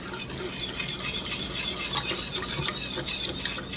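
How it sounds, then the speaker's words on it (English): A whisk scrapes and taps rapidly around a bowl, blending lumpy sugar with apple cider vinegar for a sweet and sour cucumber salad dressing. The sound is close, busy and continuous, with no talking. "And I'm going to whisk that in good."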